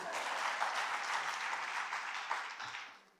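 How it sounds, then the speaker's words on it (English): An audience claps at a graduation ceremony for new coaches, a soft, distant wash of applause that holds steady and then fades out toward the end. "Please clap for me."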